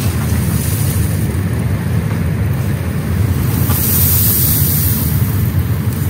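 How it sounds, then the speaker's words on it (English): Strong desert wind in the Wahiba Sands buffets a tent from inside, a loud, steady roar with a rushing hiss that swells slightly, no voices heard. "Just listen to the sound of the wind."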